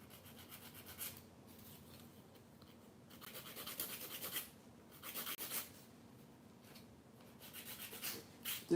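Nail file working over acrylic nails during a refill, giving soft, close rasping strokes in irregular bursts separated by short pauses.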